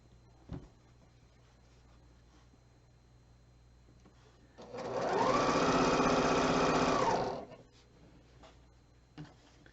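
A sewing machine stitching quilt blocks together for an All Stars quilt, running in one steady burst of about three seconds, close and loud, with quiet room sounds and a small knock before and after.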